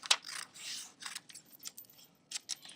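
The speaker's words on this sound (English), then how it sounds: "What we have to do is cut off these headings here" Scissors cutting the headings off a sheet of paper, with several crisp, close snips and slicing strokes separated by short pauses.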